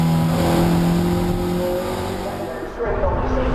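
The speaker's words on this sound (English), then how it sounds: "As the cars make their way through." Toyota MR2 Championship race cars pass at the Cadwell Park circuit in October 2013, their engines loud and close with sustained revving tones that shift in pitch as the cars go through, before the sound briefly dips and picks up again.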